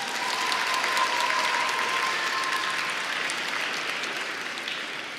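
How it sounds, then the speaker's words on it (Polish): At a charity Christmas concert, an audience gives a hall-filling round of applause for a professor, steady dense clapping that slowly fades toward the end. "Wielkie brawa pani profesor."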